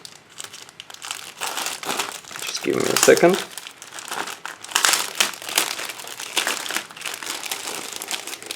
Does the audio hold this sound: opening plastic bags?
yes